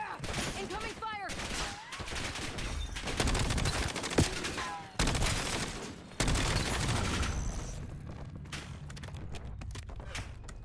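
Rapid bursts of incoming gunfire crackle through a first-person shooter battle in Call of Duty Black Ops 7, loud and near, with dense volleys and brief lulls broken by hard cuts.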